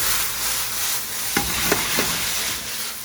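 Onions caramelizing in a pan over high heat, a constant loud hiss of frying with a few sharp scraping stirs as stock is added to lift the browned fond, with no voices.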